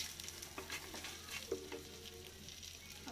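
Turmeric (haldi) powder and spices sautéing in a pan give a soft, steady sizzle with light scraping stir strokes, quiet and close, with no talk.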